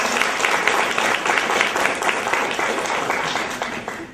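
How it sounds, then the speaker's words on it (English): Audience clapping for kids at a motivational talk, a burst of applause that starts strong and gradually tapers off over a few seconds. "Let's give these kids some round of applause."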